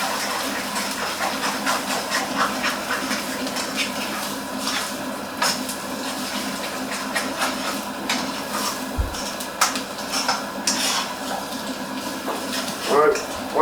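Eggs, two yolks and one whole egg, sizzle in a hot pan for egg fried rice, a steady close hiss and crackle with intermittent clicks and scraping, continuing throughout.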